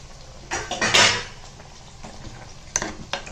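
Cooked moong dal stirred into ponnanganni greens in a metal pan, a few close clanking scrapes of a spoon against the vessel in bursts, with quieter gaps between.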